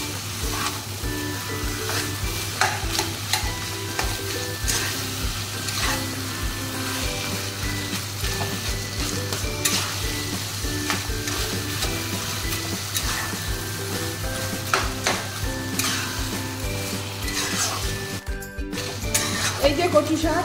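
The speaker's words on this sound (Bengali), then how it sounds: "এই যে কচু শাকটা কষিয়ে নিচ্ছি" Taro leaves stir-fried with fried hilsa fish heads and green chilies in a pan, a continuous sizzle under repeated scraping and clinking of a spatula against metal, with a voice talking over it.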